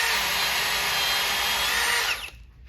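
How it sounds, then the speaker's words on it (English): A Ridgid cordless drill bores a hole with a loud, steady high-pitched whine that stops abruptly near the end, leaving quiet behind. "I'm gonna drill a couple holes, get a time on that."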